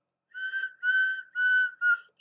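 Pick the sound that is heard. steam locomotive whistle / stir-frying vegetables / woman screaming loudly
steam locomotive whistle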